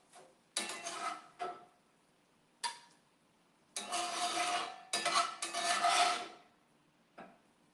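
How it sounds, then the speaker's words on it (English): Rice paper dumpling filling scraped out of a pan into a bowl with a utensil: several bursts of rasping, scraping strokes, some brief and some sustained for a second or more, loud and close, with short pauses between them. "I'm gonna take out my filling and put it in a bowl so I can clean my pan out a little"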